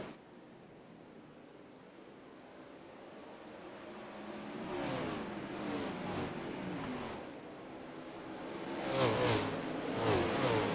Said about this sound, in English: A-Main feature racing with the 410 sprint cars.